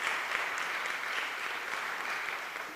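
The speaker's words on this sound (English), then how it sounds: "yes, let's give them a round of applause." An audience at a Constitution Day event gives a round of applause, a brief, even wash of many hands clapping at moderate loudness without a break.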